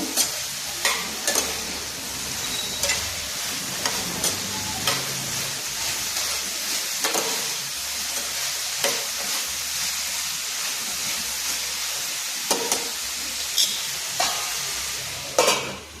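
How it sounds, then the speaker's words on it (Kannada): Capsicum frying in a little oil with already-browned onions for a capsicum gravy sizzles continuously and up close, while sharp scraping stir strokes land at irregular intervals throughout. No one talks. "ಈಗ ಕ್ಯಾಪ್ಸಿಕಮ್ ಹಾಕೋಣ. ಇದು ಒಂದು ಸ್ವಲ್ಪ ಎಣ್ಣೆಲೇ ಮಗ್ಬೇಕು."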